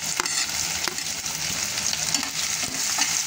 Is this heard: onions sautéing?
yes